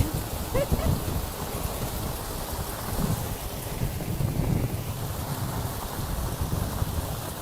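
Steady rain falls outside an open window in breezy weather, a close, loud, continuous hiss of drops with gusts of wind, with no talk.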